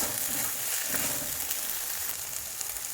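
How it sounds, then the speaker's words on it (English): Sweet potato leaves dal with salt and hing cooking in a pan, giving a steady, even sizzle and frying hiss that continues throughout at moderate volume. "I will cook it for around 2 minutes"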